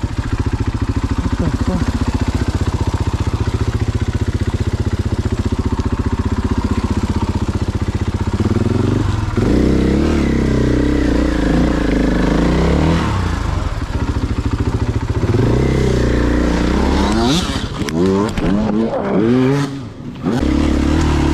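Several KTM 85 dirt bike engines idle and rev loudly up close on a trail ride, a steady dense drone rising and falling with throttle blips, with brief clatter toward the end.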